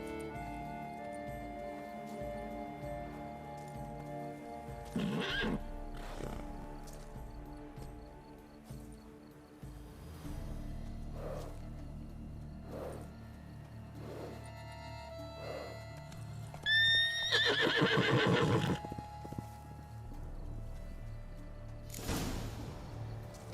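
Roach, the horse in The Witcher III: Blood & Wine, gives a short whinny that rises and falls against game ambience, soft hoof clops and scattered thuds.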